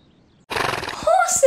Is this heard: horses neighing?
yes